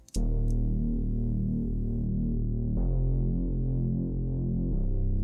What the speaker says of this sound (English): The first one is more of an underwater kind of growly bass,